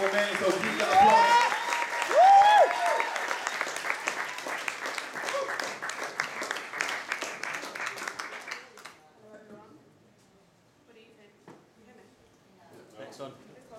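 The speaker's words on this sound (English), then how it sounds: "give that applause" A crowd at a poetry reading applauds, claps rising and holding for several seconds before fading into near quiet, with a few scattered claps and faint voices near the end.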